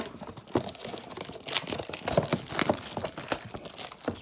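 Opening a 2019 Topps Gypsy Queen trading card blaster box: close, quiet crinkling and tearing of cardboard and wrapping in short irregular bursts, no talking.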